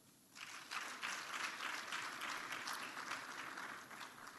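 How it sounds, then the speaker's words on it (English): An audience at the 2024 Capital Market University Challenge awarding ceremony in Rwanda breaks into applause for CMA staff, a dense, even wash of clapping that swells quickly and holds steady, somewhat distant. "I think we should give them a huge round of applause"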